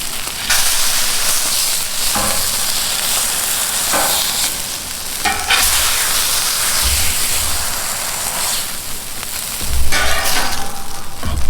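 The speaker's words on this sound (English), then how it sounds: "and let's go ahead and add the meat." Burger meat with onions and tomato sizzling loudly on a hot Camp Chef flat top griddle, a dense continuous hiss like heavy rain, with a few brief scrapes and pops, close up and without talk.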